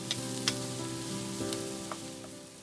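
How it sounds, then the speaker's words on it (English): Pad kaprao curry paste sizzles in hot oil in a wok: a soft, continuous frying hiss with a few light clicks and stirring scrapes, no voices. "Once the oil is hot enough, add the paste to the wok and stir until fragrant."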